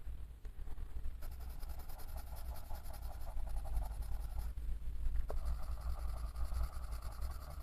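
Colored pencils scratch steadily across the paper of a Middle-earth coloring book, a close, continuous scribbling texture with brief pauses and a low background hum underneath.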